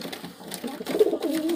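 A pigeon coos close by, a low soft throaty murmur that swells toward the end, set in a pigeon loft.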